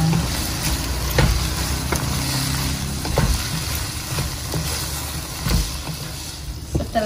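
Tripe and Chinese cabbage stir-fry in a pan with a steady, close sizzle, broken by several sharp knocks and scrapes as the spatula turns the food.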